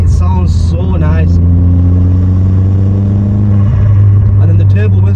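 A stage 2 Vauxhall Astra VXR of about 320 bhp rumbles loudly with a deep, steady exhaust drone that swells and settles, while someone talks over it near the start and end.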